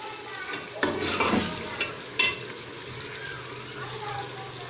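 Chicken stirred in a hot pan with a steady sizzle, a few louder scraping stirs standing out over the frying hiss.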